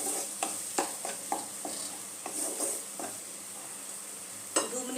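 Spice paste with turmeric and Kashmiri chili powder sautéed with ginger and tomato in a pan, a soft continuous sizzle under irregular scraping strokes of a spatula, close and fairly quiet, with no voices.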